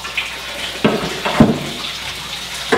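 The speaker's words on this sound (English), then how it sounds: "the water, if you can see it, is draining off into a pan" Water drains off a silvering box into a collecting pan, a soft continuous trickle with a few louder splashes and knocks, close by and without talk.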